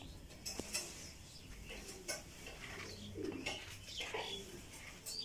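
Racing pigeons coo softly inside a loft, with scattered quiet calls and faint clinks against low room noise.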